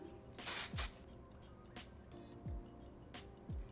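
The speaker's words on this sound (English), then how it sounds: "I'm going to spray the Volume Spray 25 very lightly" Short bursts of volumizing hairspray hiss, a couple of quick puffs close to the microphone into a hand, followed by soft brushing sounds while styling a ponytail in an otherwise quiet room.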